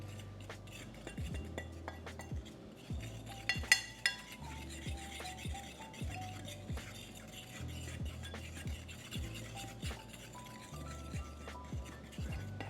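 Seasoned flour for pork chops is stirred in a bowl, a steady run of soft rhythmic scrapes and clinks of utensil against the bowl, quiet and close with no talk.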